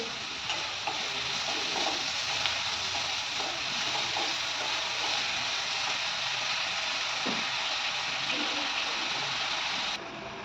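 Onion sautés with salt in a hot pan, giving a steady, close sizzle and crackle with faint stirring scrapes throughout, then cutting off abruptly at the end.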